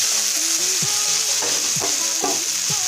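Chopped spring onion greens sizzling in a hot pan with turmeric and red chili powder, a steady bright fry with intermittent stirring scrapes and clinks close up.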